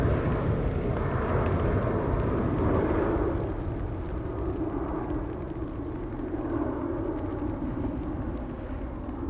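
Transavia airliner departing to Alicante from the Polderbaan at Amsterdam Schiphol in rain showers, a distant rumbling jet roar that is fuller at first, then eases to a lower steady rumble.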